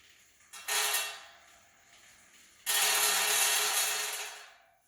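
An old Schwinn Airdyne exercise bike with a loose chain gives a broad, hissing, rattling mechanical whir in two bursts, a short one and then a longer one, that fades out, heard close with no talking.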